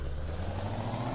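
A heavy truck in Euro Truck Simulator 2 gives a steady air-brake hiss over a deep idling engine rumble. The sound is close and constant throughout, with no voices.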